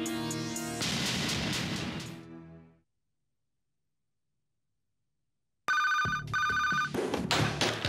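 A telephone rings in a home scene, two electronic trilling bursts cutting in loudly after a stretch of silence, with background music before and after.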